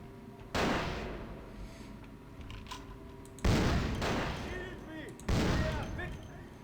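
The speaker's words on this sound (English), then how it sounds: "So it's got holy flashbangs." Holy flashbang explosions in the vampire video game Vampire the Masquerade: Bloodlines: three loud, sudden bursts spaced a couple of seconds apart, each decaying into a hissing ring over quieter background ambience.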